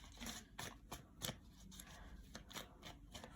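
Tarot cards being shuffled by hand, giving a series of quiet, quick papery riffles and soft slaps in an irregular rhythm, close up and faint.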